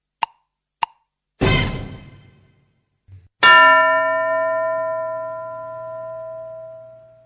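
A school bell is struck once and rings out loud and clear, its tone slowly fading over several seconds, after a couple of faint clicks and a dull thud.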